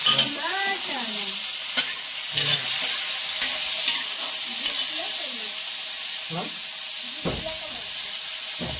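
Tomatoes fry in a pan for a village-style Maggi noodle dish, with a steady close sizzle and occasional scraping stirs, while people talk over the cooking.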